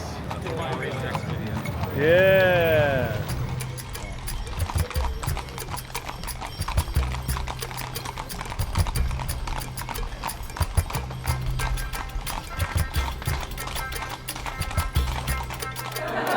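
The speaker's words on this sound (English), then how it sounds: "And this is all the horse and buggies." Horses pulling buggies on a street in Morocco, with a steady clip-clop of hooves throughout, a whinny near the start, busy street noise behind, and a brief spoken word.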